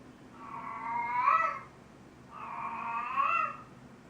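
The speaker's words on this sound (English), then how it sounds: "that is our cat. She is in heat." A female cat in heat gives two long, drawn-out yowling meows, each rising and falling over about a second, close by in a quiet room with faint background hum.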